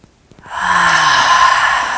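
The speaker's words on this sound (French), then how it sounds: "on expire par la bouche" Close and loud, one long exhalation through the mouth during a guided breathing exercise, a steady airy whoosh lasting about a second and a half after a brief quiet start.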